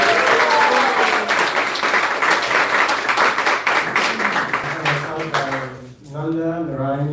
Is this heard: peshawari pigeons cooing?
no